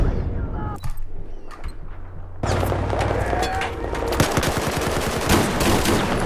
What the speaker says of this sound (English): This shotgun is hack.